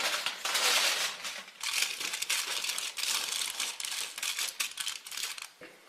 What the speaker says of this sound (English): So now place a tin foil on the right side of the rack and spread the blueberries out to dry